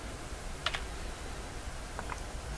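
Brief bursts of typing on a computer keyboard while editing Delphi code: a quick pair of clicks near the start, then a softer pair later, over a quiet steady background hum.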